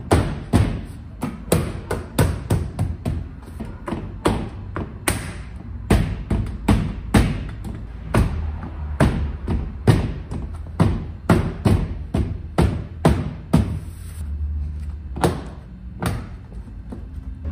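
Clips on a Torino 380 coupe door panel are pressed into place, giving a steady run of dull thumps and knocks, some in quick pairs, close and loud with no talking.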